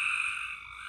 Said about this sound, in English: Come here, little froggy.